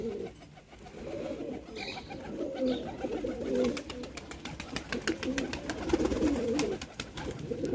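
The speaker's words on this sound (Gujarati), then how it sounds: "જો કબૂતર બધે આવી ગયા" Many pigeons coo softly and continuously nearby, layered murmuring calls with a flutter of wings and light background noise.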